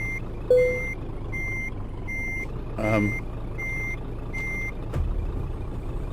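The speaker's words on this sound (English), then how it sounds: "Low air pressure in the brakes." Euro Truck Simulator 2 low brake air pressure warning beeps repeat in a steady, evenly spaced series over a truck engine's rumble, with a brief hiss in between.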